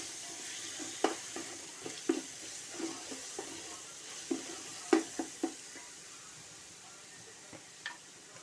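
Mint and curry leaves frying in a pan along with ginger-garlic paste, a faint, intermittent sizzle broken by soft scattered clicks and spatters from stirring.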